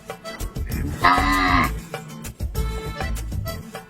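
A cow lets out one clear, drawn-out moo lasting under a second, heard nearby amid scattered thumps and rustling sounds outdoors.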